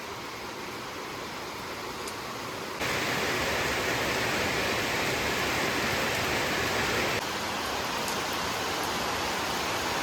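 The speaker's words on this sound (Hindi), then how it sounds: "ये जो टीन है ना, इसमें कुछ ज़्यादा ही आवाज़ सुनाई देती है बारिश के" Heavy rain drums on a tin roof in the Uttarakhand hills, a dense, continuous hiss and patter that grows noticeably louder in the middle stretch before easing slightly, with no voices.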